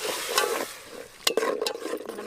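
Ground tomato hitting hot oil in a pan for restaurant-style egg biryani, sizzling loudly with a sharp burst as it lands, then steady frying under repeated spoon stirring and scraping, close up with no voices.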